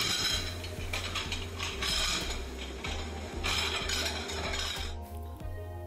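Small plates slide one after another into the plate rack of a commercial dishwashing machine, making repeated clinks and scrapes over a steady mechanical hum.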